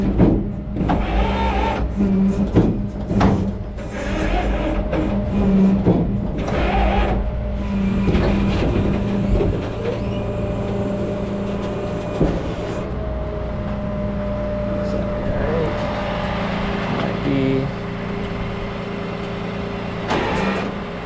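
A broken-down 2024 Hummer EV slides off the tilted bed of a tow truck, with long mechanical grinding and hum interrupted by repeated clanks and bangs over steady machinery noise.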